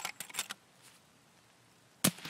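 Gunshots in Escape From Tarkov, a quick cluster of sharp cracks, then a pause and one louder close shot near the end, with no talking.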